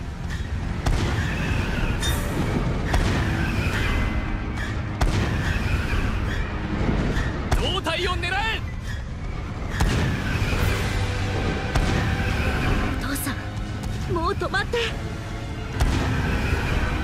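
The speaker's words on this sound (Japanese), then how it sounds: "指示した部位に向かって砲撃せよ。" Cannon fire in the Attack on Titan 2 video game comes as several separate booming blasts spaced a few seconds apart over a rumbling battle bed, with voices speaking over the action.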